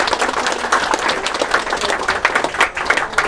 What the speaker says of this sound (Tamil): உங்களின் சார்பாக ஒரு பலத்த கைத்தட்டல அவங்களுக்கு நான் தரேன்.